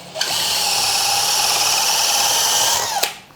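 A DeWALT DCD999N cordless brushless hammer drill fitted with a large bit runs at speed 3. It gives a loud, steady, high whir for about three seconds, then spins down and stops.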